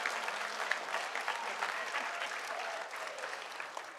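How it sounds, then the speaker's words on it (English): At a junior school assembly, students and staff applaud the coaches with steady, moderately quiet clapping from a crowd in a large room, continuing evenly throughout. "Let's give a very respectful applause to these coaches."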